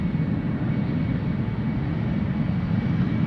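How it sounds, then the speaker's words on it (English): A KLM Embraer 190 jet takes off at Amsterdam Schiphol with a continuous low, rumbling roar at a steady level and no voices over it. "KLM Embraer 190 next to take off."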